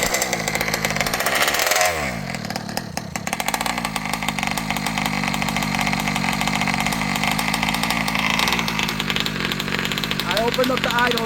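An ALX 71cc small two-stroke engine, its carburetor leaned out and idle opened up, runs at a steady idle with a dense buzzing drone that dips briefly near the start, as people talk over it.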